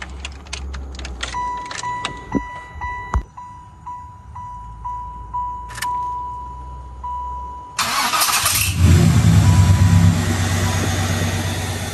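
A 1996 Chevrolet Impala SS sits with keys jangling and door chimes, then the engine cranks and catches, settling into a loud, close idle.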